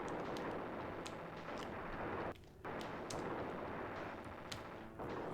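Rapid retro gunfire from the SNES game Timeslip rattles in steady repeated shots over a dense, noisy game soundtrack, with a brief dip in the middle.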